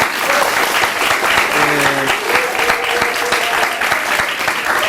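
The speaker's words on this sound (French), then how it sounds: "Applaudissez pour vous-même." A television studio audience claps for the show Le Samandé, a dense, steady applause held at full strength throughout, close and loud.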